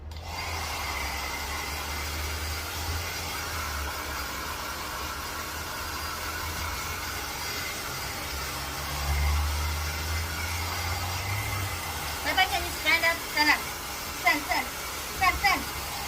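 Steady broadband whooshing of a blower dryer drying a dog runs throughout, with a low rumble and a few short clicks or knocks near the end.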